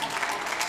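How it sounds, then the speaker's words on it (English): Audience applause at a talk on leadership in Africa, a brief, dense wash of clapping that fills the short moment evenly without letting up. "Can we give a round of applause?"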